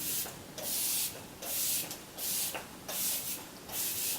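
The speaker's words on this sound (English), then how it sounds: "I'm going to set the face using the Seal the Deal Hydrating Setting Spray" A hydrating makeup setting spray bottle mists in a series of short hissing bursts, about six quick pumps with brief pauses between them, close by.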